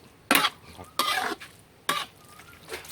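Pork dry-frying with tamarind juice in a pan, stirred in three short bursts of scraping and clattering, each followed by a quiet lull.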